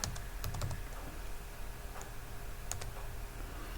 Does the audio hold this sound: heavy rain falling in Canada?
no